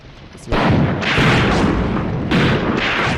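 A 76.2mm artillery gun firing in the Graviteam Tactics video game, with heavy, sustained booming blasts that rumble continuously after a sudden onset, loud and close.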